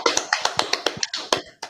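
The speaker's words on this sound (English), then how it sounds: "Clap it up." About ten sharp hand claps from a small group in an indoor room, close and crisp, coming in an uneven run that thins out toward the end.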